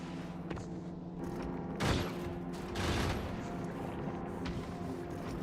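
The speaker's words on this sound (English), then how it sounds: "which is why we have gun turrets everywhere" Gun turrets in the Factorio video game shooting at asteroids: a fast rattle of rapid automatic fire over a steady mechanical hum, with two louder bursts swelling up mid-clip.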